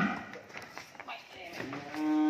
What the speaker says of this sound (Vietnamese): bây giờ ông đang lên bò nè